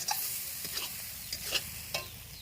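Meat stirred and cooking on a village earthen stove, with a steady low sizzle under repeated close scraping strokes of a utensil against the pot, spaced irregularly across a couple of seconds.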